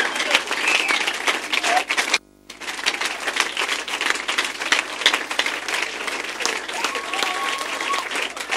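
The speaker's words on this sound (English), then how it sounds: "Be clapping, oh, be clapping." A church congregation claps steadily and loudly for several seconds, a dense continuous patter of hands that breaks off briefly partway through and then resumes at full strength.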